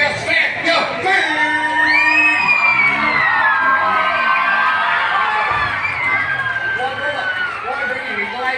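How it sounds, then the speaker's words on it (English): Grandstand crowd at a freestyle motocross show, loud and close, cheering, whooping and yelling together, with high children's shrieks and drawn-out shouts layered over a continuous roar of voices. "You're going to yell and scream, clap your hands, whistle"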